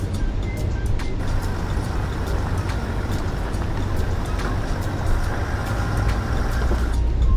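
A truck's engine labors steadily on an off-road desert climb at Big Bend National Park, a loud continuous rumble with rough low-end grind and no break over several seconds.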